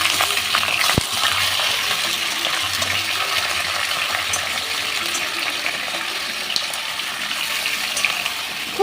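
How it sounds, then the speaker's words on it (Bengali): Chicken pieces frying plainly in hot oil with no salt or turmeric, a steady dense sizzle filling the whole stretch, with a brief clink of a utensil near the start and no voices. "এই চিকেনটা ভেজে নেব। কিছুই দেব না, নুন হলুদ কিছুই দেব না,"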